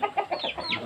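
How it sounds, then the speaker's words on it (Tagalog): A chicken on a pig farm clucks in a quick series of short, close clucks, fairly quiet and with no other sound around it. "Ang manok."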